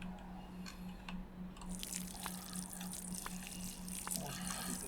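Plants are watered in the video game Schedule 1, with soft splashing and dripping water effects and faint crunchy clicks, quiet throughout, with no talking.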